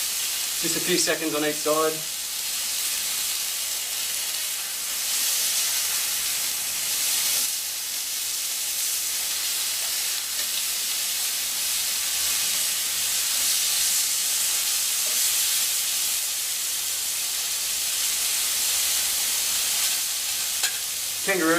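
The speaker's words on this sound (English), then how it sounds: "Now I'm just turning it on its sides so I sear each side a little bit." Kangaroo steak sears in a hot pan, a steady loud sizzle and hiss running throughout as the meat is turned onto its sides, with brief talk at the start and end.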